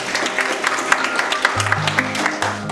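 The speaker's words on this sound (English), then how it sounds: "Please give him another round of applause." A ceremony audience at a stock exchange opening bell event gives a sustained round of applause, a dense wash of clapping that runs the whole length with a low steady tone beneath it.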